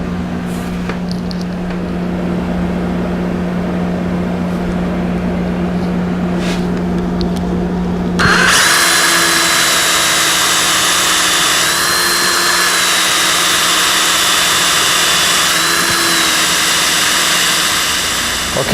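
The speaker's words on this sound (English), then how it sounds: "I'm going to take a long drill bit, and I'm going to drill from this cavity to that cavity" Power drill with a long bit boring through guitar body wood from one cavity to another, a loud steady whine and grind that starts abruptly and runs continuously for about ten seconds, with pitch wavering slightly as the bit works.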